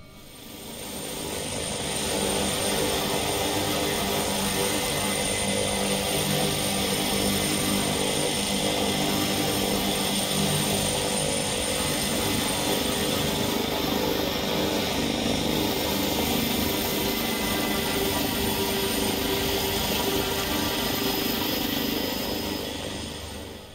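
A propeller aircraft drones steadily and loudly while coming in to land on a runway in the X-Plane 11 flight simulator, with the engine noise sustained throughout and no voices.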